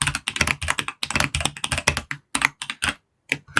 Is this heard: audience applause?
no